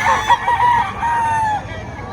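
A rooster crows once nearby, loud and drawn out, with a faint background murmur.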